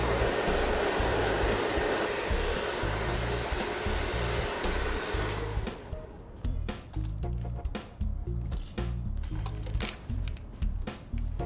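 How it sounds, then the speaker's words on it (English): A blow dryer runs continuously on short hair for about six seconds, a steady loud whoosh, then cuts into choppy bursts with brush handling and light clicks as the ends are refined. "So that's how you smooth short hair using a blow dryer."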